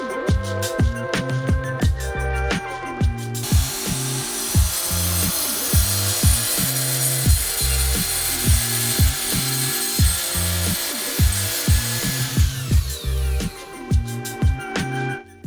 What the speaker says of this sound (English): I then cut off the overhang of the solid strips.